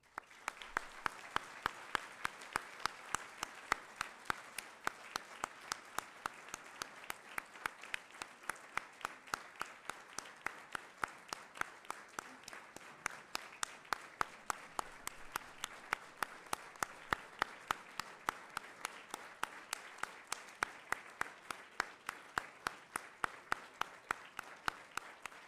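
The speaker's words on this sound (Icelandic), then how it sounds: "Gefum henni líka gott klapp." An audience applauds at a scout assembly, with steady, fairly distant clapping of a moderate crowd carrying on evenly for about twenty-five seconds with no talk over it.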